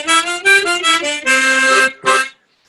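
An octave-tuned tremolo harmonica plays a short phrase of sustained, wavering chords, loud and close, ending in silence.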